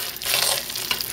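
Zucchini being stirred by hand into a thick batter, a soft close scraping and mixing texture over about a second without any talk.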